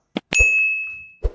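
A single bright notification bell ding rings out and decays for about a second, clear and close, framed by short clicks and soft thumps before and after.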